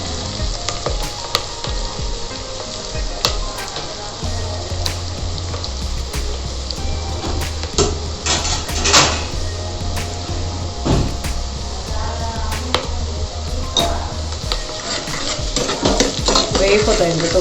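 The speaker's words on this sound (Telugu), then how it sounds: "two minutes వేపాలండి" Vegetables for a veg pulao sizzle and fry steadily in a pan, with repeated scraping and stirring strokes of a spoon and occasional clinks against the metal, close and continuous throughout.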